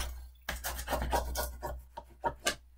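Score tape on paper being burnished for a mini album flap, a run of dry rubbing and rasping strokes up close, steady at first and then breaking into several short separate passes.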